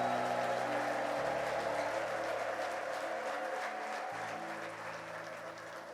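A church congregation at a New Creation Church worship service applauds continuously, a steady wash of many hands clapping with sustained organ or keyboard chords underneath, gradually easing slightly in loudness.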